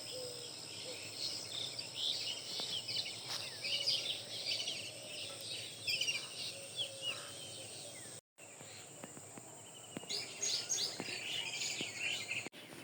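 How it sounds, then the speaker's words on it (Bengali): Birds chirp and call at sunrise over a village pond, with a steady chorus of crickets and insects underneath; the high twittering continues throughout at moderate distance, briefly cut by a short dropout. "পাখির ডাক অনেক সুন্দর মিষ্টি।"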